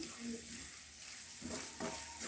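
A spoon stirs okra and tomato curry in a pan on the stove, giving a soft, steady sizzle with a couple of brief scraping strokes near the end.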